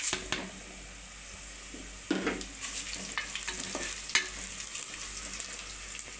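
Browned onions sizzling and frying in a pot with garam masala while being stirred for mutton pulao, a steady soft crackle with occasional scraping stir strokes, no talk.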